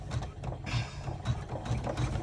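An embroidery machine stitches a cell clutcher wallet in the hoop, a close, steady mechanical chatter with a low repeating thump as the needle runs back and forth.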